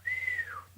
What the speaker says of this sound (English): Bernard whistles.